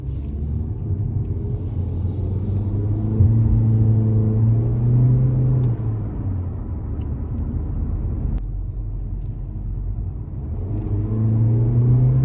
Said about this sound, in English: if you just notice the way I just accelerated, I didn't go full throttle, I didn't go half throttle